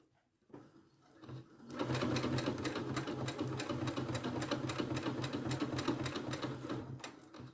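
A sewing machine stitches steadily around a velcro strip on a fabric headband, its rapid, even needle clatter close and continuous for several seconds after a brief start.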